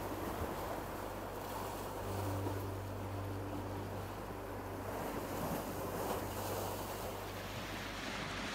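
Rough, wind-whipped water on Lake Superior along Pictured Rocks National Lakeshore, heard as a constant churning wash of waves mixed with heavy wind buffeting the microphone, with a faint low drone running underneath.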